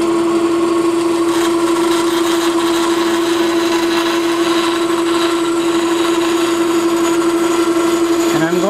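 A bandsaw hums with a loud, steady motor whine while cutting wood for a Martin 00-style acoustic guitar in a shop, and the pitch dips briefly near the end as the blade bites.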